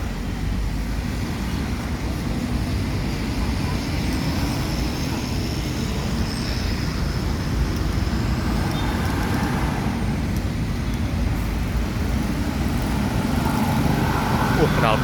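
A Laju Prima tourist bus rumbles past, its exhaust blending into a continuous, moderately loud roadway noise with engine drone beneath someone speaking.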